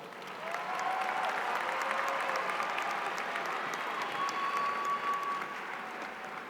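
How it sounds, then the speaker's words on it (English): Sustained applause from a large audience, steady clapping swelling in and holding for several seconds before easing slightly. "Please give them all a round of applause."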